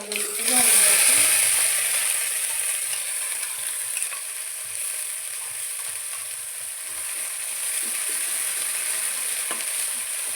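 Tomato paste frying in a hot pan for eggplant curry, a loud bright sizzle bursting as it goes in and then settling into a steady crackling hiss with light stirring, close and continuous throughout.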